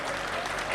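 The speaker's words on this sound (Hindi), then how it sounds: "उनके इस सौभाग्य के लिए भी पूरे सदन की तालियां" An audience at a Hindi comedy poetry gathering claps in a dense, steady burst of applause that fills the whole short moment, loud and close, with no voices over it.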